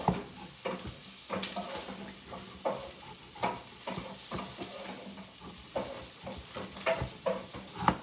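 Sweet potato cubes, skin on, frying and browning in a pan, with a steady sizzle under repeated stirring scrapes and utensil taps against the pan.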